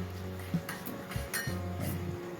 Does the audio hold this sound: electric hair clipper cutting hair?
no